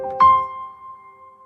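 A single piano note strikes and rings out, its sustained tone fading slowly into a soft, lingering reverb tail.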